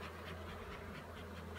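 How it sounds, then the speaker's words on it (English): Honey bees swarm around an open hive during an early-season inspection, producing a steady, dense buzz with no talk over it. "So there's bees everywhere"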